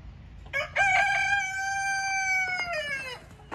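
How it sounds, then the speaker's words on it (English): A rooster crows once in a long, drawn-out call lasting about two and a half seconds, clear and fairly close over a quiet farmyard background. "that's my laughing rooster back there. Y'all may hear him laugh and crow every now and then"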